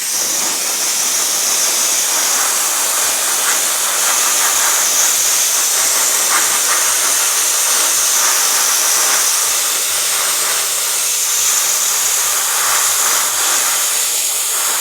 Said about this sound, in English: And we are going to steam again.